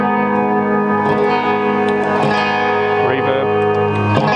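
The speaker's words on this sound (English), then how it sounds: "And then the Flint, which is a reverb and tremolo." Guitar run through a Flint reverb and tremolo effects pedal, sustained chords swelling with a lush, wavering reverb tail, loud and continuous for the whole stretch with no talking.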